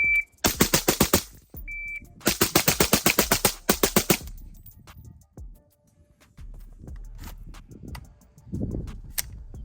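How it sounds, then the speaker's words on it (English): A Palmetto State Armory Sabre 15 Billet Edition AR-15 with a fixed stock fires two loud, rapid strings of shots from a 20-round magazine outdoors, each string a fast even rhythm, then quiet handling noises afterward. "We just put 500 rounds through the Palmetto State Armory Sabre 15 Billet Edition."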